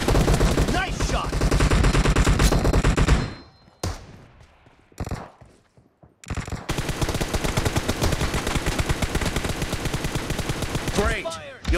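Rapid bursts of automatic gunfire crackle loud and close in a PUBG team deathmatch, broken by a short quieter gap with scattered shots. Dense firing then resumes, and game voice prompts sound between the volleys.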